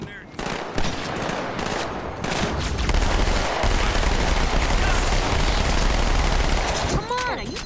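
Sustained rifle fire in the video game Halo 2, a dense, loud automatic burst that runs for several seconds, with a brief pause partway and game sound effects near the end.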